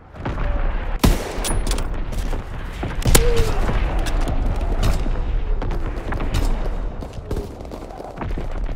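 Artillery and gunfire in a World War II shooter game, Call of Duty WWII, during a hardpoint match: dense, continuous bursts of shots and heavy booms, with a couple of sharp loud blasts standing out over the steady battle din.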